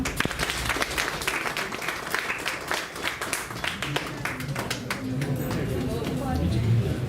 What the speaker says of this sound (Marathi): चिमुकल्यांसाठी जोरदार टाळ्या वाजवा